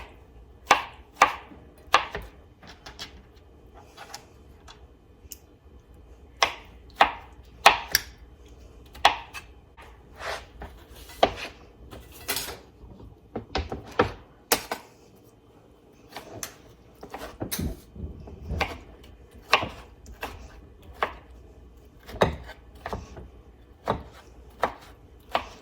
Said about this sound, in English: But we're just going to chop these up.